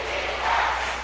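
A football stadium crowd at an international friendly between the Philippines and Chinese Taipei roars in a broad, sustained wash of massed voices that swells briefly in the middle, close and loud.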